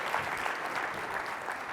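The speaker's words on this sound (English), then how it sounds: "Can we get a round of applause for that?" Brief, fairly quiet applause from a conference keynote audience, an even patter of many hands heard from a distance with no talk over it.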